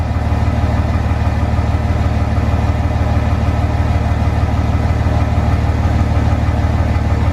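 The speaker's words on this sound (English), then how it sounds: "We're going to start the truck up" A third-generation Dodge Ram Cummins diesel truck engine idles, a loud, steady, low rumble with a rhythmic diesel knock that stays even throughout.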